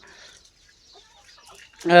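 A hen gives a loud, sudden cluck near the end, after a stretch of quiet with faint distant bird and farmyard sounds.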